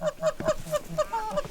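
Geese honking during an early-season goose hunt in North Dakota, a dense series of repeated nasal honks from several birds overlapping at close to moderate distance, with no talk.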